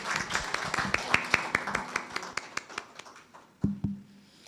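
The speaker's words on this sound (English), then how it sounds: "So please give the BNSI team a round of applause." Seminar audience applauding, a modest scatter of individual claps that thins out toward the end, with a few louder hand strikes and faint voices in the room.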